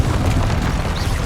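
The Confringo fire spell from Hogwarts Legacy goes off as a short, dense explosive boom with a rumbling burst that fills the moment, loud and close with no talk.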